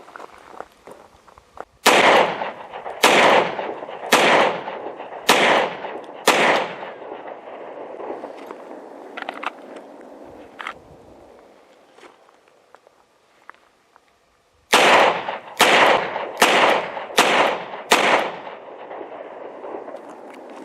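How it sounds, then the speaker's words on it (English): A Ruger LCR .38 Special revolver fired at about seven yards: five sharp, loud shots in quick succession, a long pause, then five more rapid reports from a Smith & Wesson Model 642 revolver, with faint shuffling between volleys. "I'm going to start off with 5 rounds through this, and then I'm going to holster and fire 5 rounds through the Smith & Wesson"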